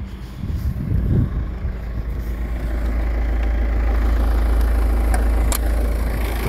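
A 2014 Peugeot 308 with the 2.0 BlueHDi diesel idles steadily, a loud, even low rumble heard up close. A brief clunk of handling comes near the start.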